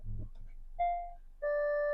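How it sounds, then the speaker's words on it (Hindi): A car's reverse parking sensor gives a short beep, then settles into a steady continuous tone as the obstacle gets close, after a brief moment of speech at the start. "ये सीधा नॉन स्टॉप बीप आएगी अब।"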